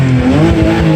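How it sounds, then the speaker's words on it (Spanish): A BMW M6 engine revs up close, a loud, rich harmonic tone climbing in pitch through a short burst with no talk over it. "Vamos a ver qué tal sube de vuelta y el sonido de este precioso coche"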